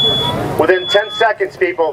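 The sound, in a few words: smoke detector alarm sounding during sprinkler demo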